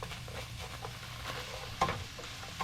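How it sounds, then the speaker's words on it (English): Onions going into a pan of taco meat on the stove, with a soft steady sizzle and light scraping as they cook, close and fairly quiet. "I'm going to add the onions now."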